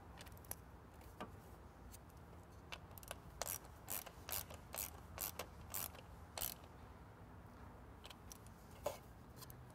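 A torque wrench tightens bolts to 89 inch-pounds on a MAF sensor change, giving a run of quick, faint ratcheting clicks in short bursts over a quiet background.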